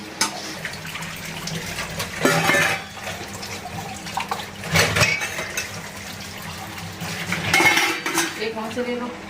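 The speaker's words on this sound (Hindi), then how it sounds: "अब सिंक में पड़े बर्तन भी साफ़ करेंगे।" Dishes are washed in a kitchen sink, with cutlery and pots clattering in several bursts over steady running tap water, close and moderately loud.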